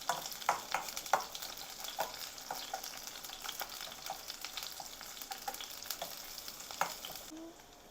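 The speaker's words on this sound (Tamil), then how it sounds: "பெரிய வெங்காயம் போட்டு நல்லா தாளிக்கணும்." Large onions fry in a pan for drumstick-leaf sambar, with a steady close sizzle and frequent scraping taps from stirring. No one speaks.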